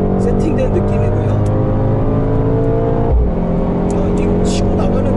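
A Mercedes-AMG GT 63 pulls hard under heavy throttle, a loud, sustained engine roar filling the cabin with a brief dip before it surges again, and voices are faintly present over it.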